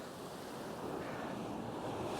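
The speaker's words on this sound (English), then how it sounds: "We'll have the water rushing around" Waves rushing around rocks and over a foggy shoreline: a steady, close wash of water and surf with wind buffeting the microphone, continuous and without pauses or voices.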